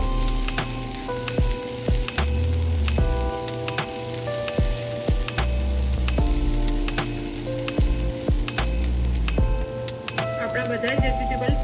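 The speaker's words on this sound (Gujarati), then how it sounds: "બધા જ વેજીટેબલ સારી રીતે સોતે થઈ ગયા છે." Mixed vegetables with chili flakes sautéing in a pan for a veg lasagna filling, giving a steady close sizzle with scattered clicks and scrapes of stirring throughout.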